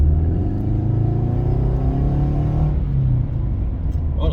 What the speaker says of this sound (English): Put my foot down on the accelerator again.